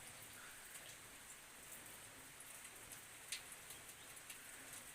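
Steady rain falls on a banana plantation, a soft, even hiss of drops on leaves with occasional sharper splashes, continuous and moderately quiet throughout.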